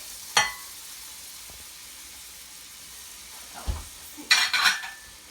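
Onions and garlic going into hot oil in a soup pot, a soft steady sizzle with a spoon clink at the start and a louder burst of scraping and crackling toward the end.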